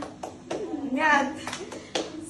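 A few sharp claps sound at uneven intervals, with children's voices chanting between them at moderate volume.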